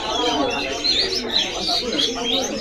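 Caged male green leafbirds (cucak ijo) at a bird shop give repeated bright chirps and warbling calls, close and fairly loud, over a busy indoor background with people talking.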